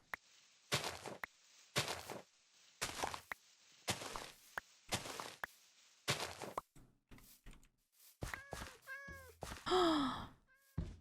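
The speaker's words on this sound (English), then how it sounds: "There's so many cats here." Several cats meow in a Minecraft game, a string of short separate calls spaced across the clip, the later ones higher and more tonal, with soft thumps between them and no talking.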